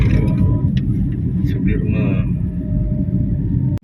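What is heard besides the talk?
truck passing on the street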